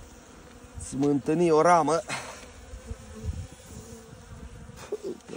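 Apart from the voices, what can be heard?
honeybees buzzing at the hive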